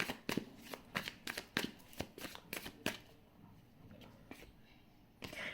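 Tarot cards are shuffled close up in a rapid series of crisp riffling flutters and soft slaps, then a quieter pause and one more riffle, with faint talk underneath.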